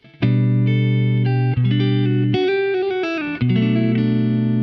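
Fingerstyle acoustic guitar plays a short G-over-B phrase from a Christmas pop song, plucked notes ringing clearly and sustained with a few chord changes, close and alone with no voices.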